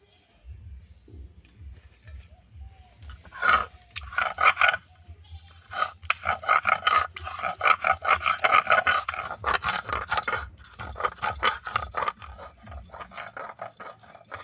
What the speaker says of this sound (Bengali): আমি শিলনোড়ায় বেটে নিচ্ছি, আপনারা মিক্সারে পেস্ট করে নিতে পারেন।